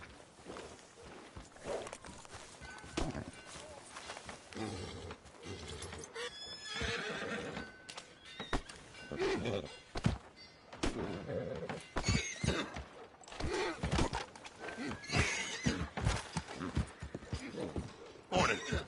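Horse whinnies and clip-clopping hooves in Red Dead Redemption 2 gameplay, a loud neigh rising over steady hoofbeats on a town street, with scattered thumps and occasional voices.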